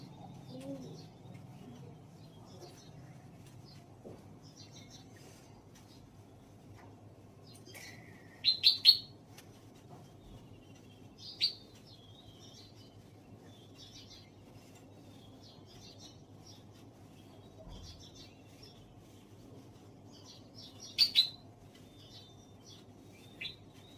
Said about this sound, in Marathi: हे असे सगळे पक्षी आमच्याकडे खास फरसाण खाण्यासाठी येत असतात ना महेश.